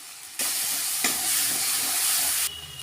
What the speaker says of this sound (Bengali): এখন মশলাটা ভেজে নিচ্ছি। হলুদ গুঁড়ো আর একটু লাল লঙ্কা গুঁড়ো